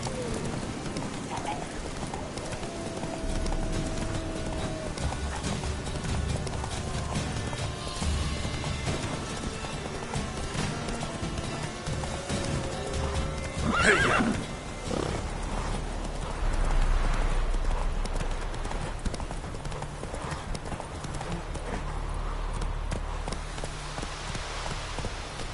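Hooves of the horse Roach trot at an even pace on the ground in The Witcher 3, a steady clip-clop that runs throughout over faint game ambience.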